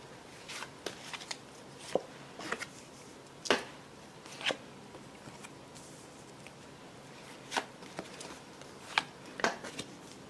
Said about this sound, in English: Shuffling cards.